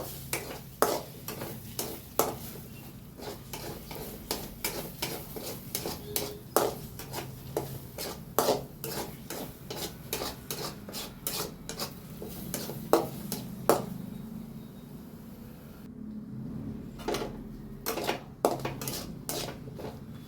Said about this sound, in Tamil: இப்போ முட்டை பச்சை வாசம் போகிற அளவுக்கு நல்லா வதக்கியாச்சு